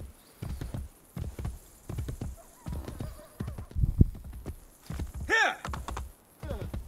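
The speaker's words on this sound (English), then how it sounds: "Convenient horse." Horse in the video game Assassin's Creed Brotherhood galloping with rhythmic clip-clop hoofbeats, close and moderately loud, broken by a sharp neigh near the end.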